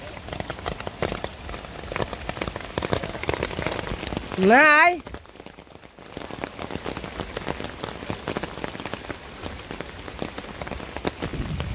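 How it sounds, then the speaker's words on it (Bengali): Heavy rain pours down steadily in a Bangladeshi village, a dense, continuous patter on surfaces, briefly broken by a short voiced sound and a word spoken midway. "কারণ যে অবস্থা বৃষ্টির, আর হইলো বিদ্যুৎ চমকাই"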